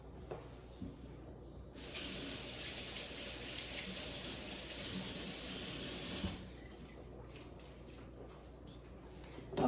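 A kitchen tap runs hard for several seconds while green onions are rinsed under it, a loud steady hiss of water that cuts off abruptly, leaving faint handling clatter afterward.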